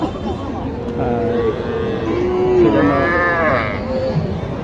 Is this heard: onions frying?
no